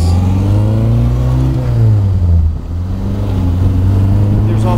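A classic car with lollipop fender mirrors, lap belts, an exhaust header and Pertronix ignition drives along close by. The engine drones loudly, dips briefly and then rises again as it accelerates.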